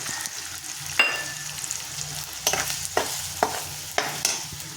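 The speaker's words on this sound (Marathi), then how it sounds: "असं मस्त असं भाजून घ्यायचं कांदा टमाटर वगैरे सगळं तेलामध्ये" Onion and tomato fry in oil with a steady soft sizzle, broken by several distinct stirring scrapes and clacks of a spoon against the pan, close and fairly quiet.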